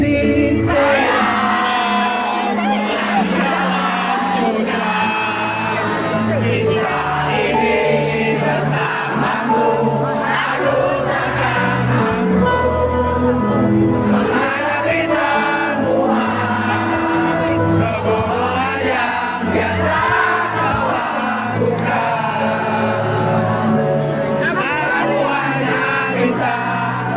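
At an outdoor band concert in Kotabumi, a large audience shouts and cheers in a loud, continuous wash of voices for the whole stretch.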